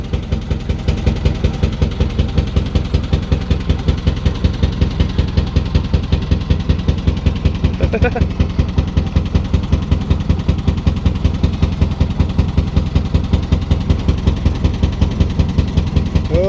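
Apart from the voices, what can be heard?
narrowboat engine running on the Grand Union Canal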